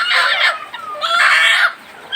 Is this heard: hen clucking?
yes